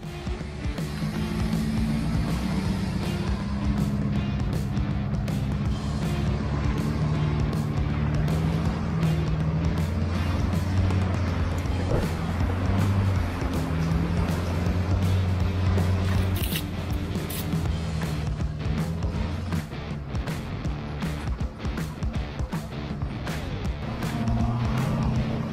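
A pickup truck towing a loaded deer camp trailer drives along, its steady low engine and road rumble continuous and fairly loud throughout, with no talking.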